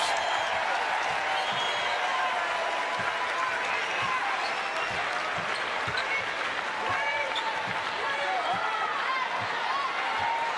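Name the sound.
basketball crowd applauding a dribbling exhibition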